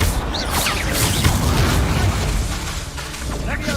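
Spell blasts and fiery bursts from combat in the video game Hogwarts Legacy, a dense, continuous barrage of booming impacts and crackling pops with no pause, loud throughout.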